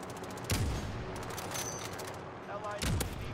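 Sniper rifle fire from an AX50 in Call of Duty Warzone, with two loud sharp shots about two seconds apart over continuous game noise and gunfire, while a player talks.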